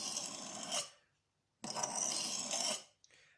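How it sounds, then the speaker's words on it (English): A knife blade rasps in two long, even strokes across a Norton India sharpening stone, close and clear, separated by a silent pause and followed by a brief scrape. "the pressure should be even on every part of the knife during the sharpening process"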